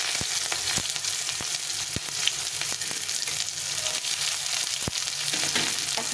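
Chopped onions sizzling in hot oil with nigella seeds and dried chillies in a pan, a steady bright crackle broken by occasional sharp pops and stirring clicks, close and alone.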